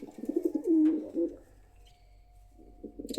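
Pigeons in a loft coo in a low, throaty burst with a longer rolling coo in the middle, then a pause and a few more soft coos near the end, fairly close and clear.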